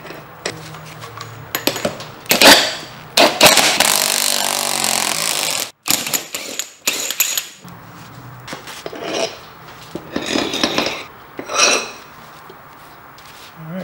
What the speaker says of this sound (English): So use an impact driver and install this bead breaker